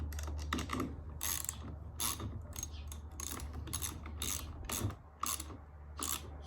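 A socket wrench ratchets a mirror mount bolt on a 2020 Harley-Davidson Street Glide Special, sounding as a run of quick, close, rhythmic clicking bursts over a steady low hum, with no talking.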